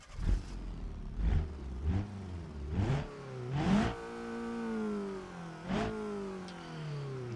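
A car engine in the BeamNG driving game revs repeatedly, with several sharp rising throttle blips in the first few seconds, then a longer sustained climb and a steady held drone, loud and close with no talk.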